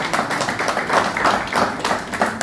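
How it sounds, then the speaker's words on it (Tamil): Audience applause at an awards ceremony in Chennai honouring women achievers, greeting the chief guest. The clapping is dense and continuous, rising and falling slightly, and no voices are heard. "இப்போ நம்ம chief guest க்கு one more time ஒரு பெரிய கைத்தட்டல்கள் கொடுத்து அவங்க வரவேற்கலாம்"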